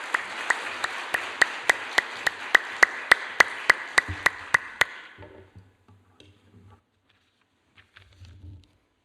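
A church congregation at a Korean afternoon worship service gives the pastor a welcoming round of applause, heard as steady rhythmic claps that stop abruptly, followed by quiet room noise and faint shuffling.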